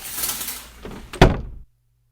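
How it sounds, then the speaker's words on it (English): A bathroom door is shut hastily after a shower, a rush of movement ending in one sharp, loud thud near the listener, then sudden silence. "And the bathroom door hastily closes."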